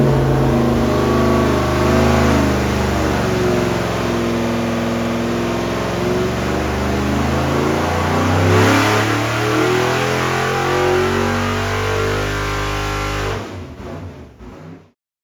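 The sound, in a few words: carburetted engine revving during a power test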